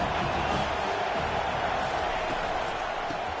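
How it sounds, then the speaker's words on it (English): Dense, steady roar of a stadium crowd at a college football game, Virginia Tech against USC, a continuous wash of distant voices with no distinct cheers standing out. "This crowd trying to make life miserable for this offense."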